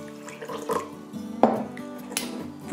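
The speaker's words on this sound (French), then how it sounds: "Je viens ajouter de l'eau tiède" Lukewarm water is poured into a bowl over yeast and sugar, giving a short splashing trickle with a light clink of the bowl, close and clear, with no talk.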